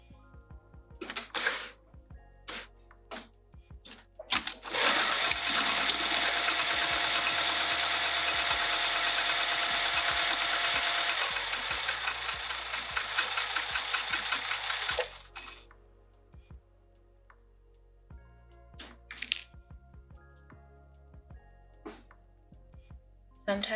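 Sewing machine stitching a fabric pouch, a fast steady mechanical whir lasting about ten seconds, bracketed by sparse clicks, handling sounds and brief talk before and after.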